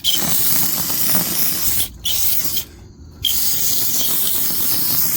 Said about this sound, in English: Spray these down and then probably grease them up good. Alright, more parts cleaner degreaser.